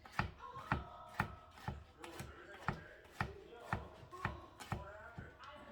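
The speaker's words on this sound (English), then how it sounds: "Mincing garlic." A knife mincing garlic on a cutting board, steady close rhythmic chops about two per second, crisp and distinct, with no talk over them.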